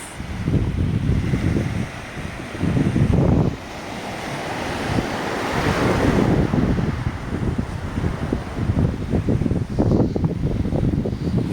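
Ocean waves break and wash on an island beach in the Maldives, loud and close with rising and falling surges and heavy wind buffeting the microphone.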